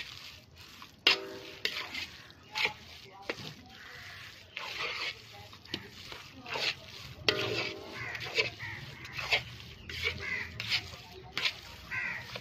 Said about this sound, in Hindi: जब तक मसाला मिक्स ना हो जाए तब तक भाई इसको चलाते रहेंगे चमचे को लगातार।